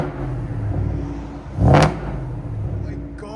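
A supercharged Ford F-150 with a 5.0L V8, long-tube headers and a loud exhaust idles with a deep rumble, then gives one short, sharp rev that surges and falls off. A voice speaks over the steady idle.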